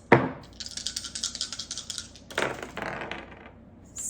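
Dice rolled across a surface, a quick burst of small hard clicks and rattles that settles and then picks up again in a second tumbling patter, close and fairly crisp.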